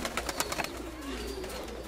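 Pigeons kept in a loft by a breeder, with a low, rolling coo sliding in pitch near the mic and faint brief chirps and rustles at the start, no talking.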